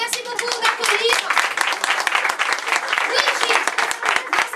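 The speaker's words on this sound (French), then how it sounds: "Merci beaucoup d'applaudir." Audience applause at a live show, dense steady clapping from a crowd that continues throughout without a break.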